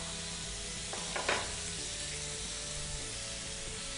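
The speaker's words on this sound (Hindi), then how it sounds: "ये हमने चिकन को शैलो फ्राई करना है।" Chicken shallow frying in a pan on a cooking show gives a steady, low sizzle throughout, with a couple of brief clatters near the start as pieces go in or are stirred.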